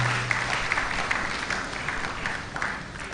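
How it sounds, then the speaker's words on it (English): A seminar audience applauds steadily as Senior Omeze Michael, a head trader, walks to the high table; dense, even clapping fills the room throughout with no voices over it. "Please a round of applause for him as he comes to the high table"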